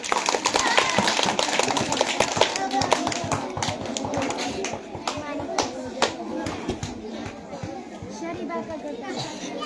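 Girl students at a madrasa give energetic applause, with dense overlapping claps mixed with chatter and voices throughout.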